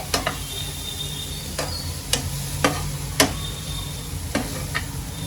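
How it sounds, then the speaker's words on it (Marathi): Tendli (ivy gourd) and tomatoes sizzle in a pan under a steady fry, punctuated by sharp clicks and scrapes of a spoon stirring every second or so. "आता या सर्वांना मी चांगला एकत्र करून घेते"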